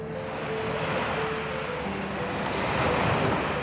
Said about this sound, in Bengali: এখন শুধু সমুদ্রের আওয়াজটাই পাবি